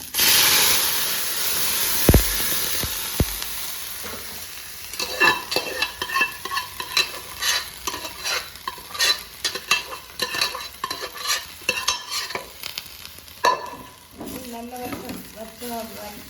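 Grated coconut fries with mutton liver in a pan while being stirred and turned, making loud crackling sizzles and repeated scraping strokes of a spoon on the metal. The bursts of stirring come in an uneven rhythm, close up.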